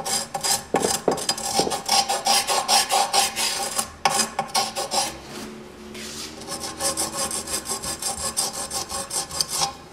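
Allen wrench scraped back and forth along the edge of scooter grip tape, a steady, close, gritty rasping in quick repeated strokes with brief pauses, no talking.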